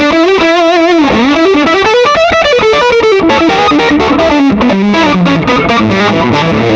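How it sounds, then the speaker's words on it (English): Loud, heavily fuzzed electric guitar through a germanium fuzz pedal plays bending lead lines and then choppy riffs, thick and saturated throughout. "It's like a working man's fuzz, but still sounds like a vintage fuzz"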